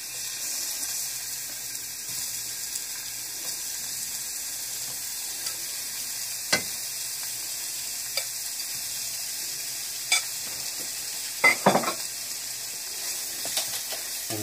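Seasoned shrimp frying in a pan for shrimp tacos, a steady bright sizzle with a few sharp clinks and scrapes from stirring.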